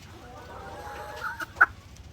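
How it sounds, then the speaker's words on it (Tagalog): White Leghorn cross Black Australorp laying hens give a soft, drawn-out clucking call ending in a brief, sharper cackle, fairly close, with no talk over it. "napakagandang pagmasdan nitong ating mga white leghorn cross ng black australorp na nangingitlog na talaga sila"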